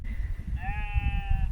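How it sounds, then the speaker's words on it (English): Sheep bleating in a field in Ireland, one clear, sustained bleat of over a second over steady low wind or background rumble, moderately close. "sheep. Oh my gosh, look at them up there"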